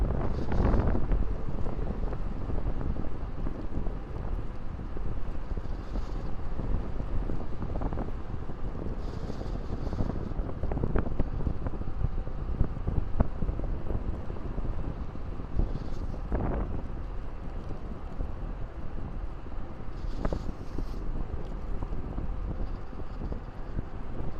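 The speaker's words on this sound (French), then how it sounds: "Ah, il y a quand même un peu de vent ici." Wind rushes steadily past the microphone on an electric mountain bike ride, a continuous close roar with occasional gusts and no talking.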